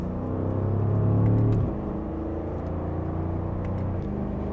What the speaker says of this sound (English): You can hear a little bit of that exhaust.